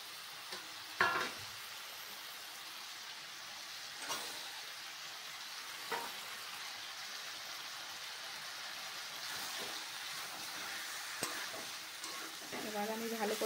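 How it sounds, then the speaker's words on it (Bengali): Dried fish and spices fry in a pan, a continuous soft sizzle broken by scraping stirs and occasional sharp knocks of a spatula, close but fairly quiet, growing busier toward the end. "এবার আমি ভালো করে কষে নিই,"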